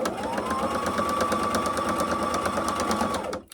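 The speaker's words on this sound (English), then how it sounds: "Take that clip off and keep on sewing" A sewing machine stitches a quilted, padded tablet zipper bag with a steady, continuous rapid clatter that runs for several seconds before stopping abruptly.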